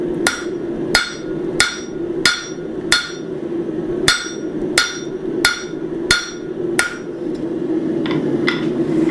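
A blacksmith strikes hot steel to thin a leaf vine, landing about a dozen sharp, ringing hammer blows in an even rhythm, close and loud over a steady background hum.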